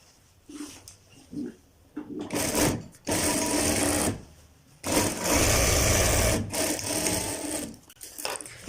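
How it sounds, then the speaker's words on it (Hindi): A sewing machine stitches salwar fabric panels together, running in loud close bursts: a few short stutters, then longer steady whirring runs separated by brief pauses. "इसी तरह दोस्तों अगले जो 2 कुंदे हैं इनको हम इस तरह सिलाई लगा लेते हैं"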